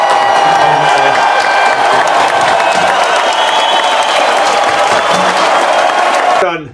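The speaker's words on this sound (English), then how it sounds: "we're all going to give him a huge cheer" Loud, sustained applause and cheering from a crowd celebrating a birthday boy lifting the cup, steady clapping and whoops filling the space until it cuts off abruptly.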